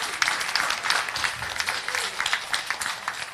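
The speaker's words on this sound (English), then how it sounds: "So give her a round of applause." Steady applause from attendees at a women's equality leadership council meeting, many hands clapping evenly at moderate distance with no talk.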